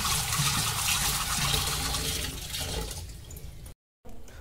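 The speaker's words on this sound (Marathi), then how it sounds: "आता हे मटन आपण धुवून घेऊया, स्वच्छ करून घेऊया 2 ते 3 वेळा" Raw mutton is washed in water, with loud sloshing and splashing up close that gradually tapers off, then a brief silent gap before a little more water noise.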